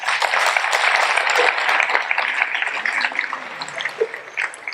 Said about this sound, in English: Aren't you clapping your hands?